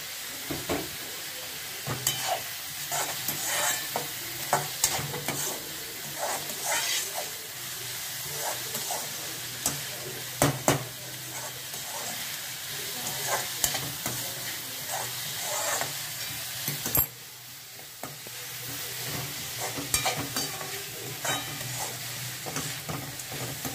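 Onions sauté in oil in a pan for rava upma, a steady close sizzle with frequent scraping and tapping from a spatula stirring throughout, and one louder clatter partway through.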